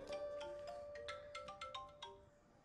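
A mobile phone ringtone plays a quick series of bright electronic melodic tones over a steady hum, fairly soft and alone without speech.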